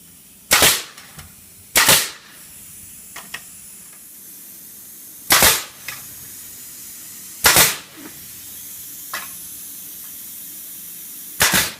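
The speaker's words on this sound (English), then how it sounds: "I am just nailing on to the very end to give it stability" Nails driven into a wooden rabbit hutch frame, sharp loud pops spaced irregularly, some in quick pairs, with fainter taps in between and quiet gaps.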